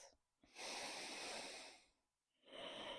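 One slow, deep breath taken during a calming yoga flow: a long airy inhale, a pause, then the start of a soft exhale, close and quiet.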